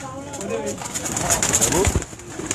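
Pigeons cooing on a rooftop in Firozabad, Gujrat, with soft repeated coos and rustling close by while someone talks over them.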